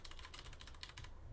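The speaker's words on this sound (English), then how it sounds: "I'm going to type in guesses are closed." Rapid keystrokes on a computer keyboard, typed in quick bursts during a baseball card case break, close and fairly quiet, with no one speaking.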